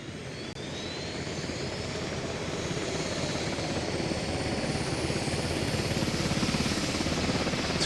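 Helicopter rotor and engine drone from an online multiplayer match, a steady loud whir with a dense low thudding beat that holds throughout and swells slightly toward the end, with no talking over it.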